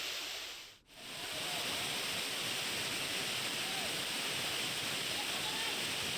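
The Vanakond waterfall in Sindhudurg pours in a dense, steady rushing roar that fills the whole stretch, broken only by a brief dip near the start.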